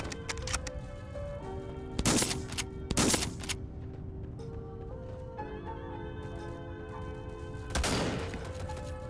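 Gunfire in the mobile shooter Forward Assault: three or four sharp, loud shots spaced a second or so apart, the last after a longer pause, over a low steady game hum.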